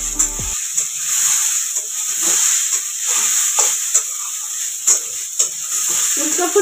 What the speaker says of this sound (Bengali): আর এখানে আলু ভাজা হচ্ছে